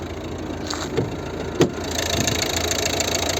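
A 2011 Volvo V50 1.6 diesel engine idles steadily with a low, continuous rumble, with a couple of brief clicks or knocks along the way.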